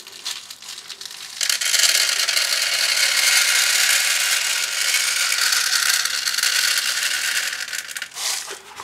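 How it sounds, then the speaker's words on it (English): Lead shot is poured and stirred into latex in a container, producing a loud, continuous gritty rattling and crunching up close that lasts several seconds before briefly easing and resuming. "now I'm going to mix as much lead shot in as I can"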